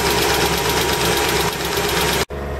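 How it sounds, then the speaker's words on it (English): A BMW E30 318i running through its annoying exhaust muffler, a loud, close, steady droning rumble with a knocking pulse that holds throughout and briefly drops out near the end. "Here's the annoying muffler."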